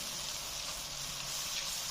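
Chicken korma masala roasts in a pan with a steady, dense sizzle and hiss that stays level throughout.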